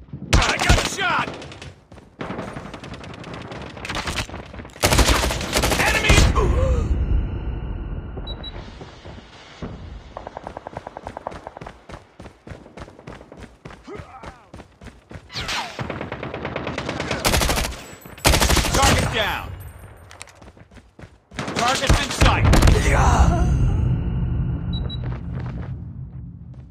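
Gunfire in the mobile shooter game Call of Duty Mobile, loud rapid automatic bursts and fusillades with rumbling blasts, coming in several long waves with brief pauses between.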